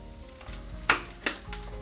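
Shredded potato hash browns fry in hot oil, olive oil and butter, giving a steady close sizzle with two brief sharper crackles; no one talks.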